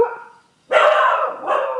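A dog gives two loud, close barks in quick succession, the first long and ringing and the second shorter, after a brief fading whine and a moment of silence.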